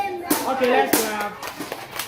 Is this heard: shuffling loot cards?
no